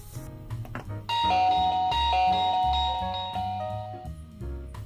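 A melodic electronic Reolink doorbell chime plays several sustained tones in sequence, loud and close, ringing out clearly with no talking.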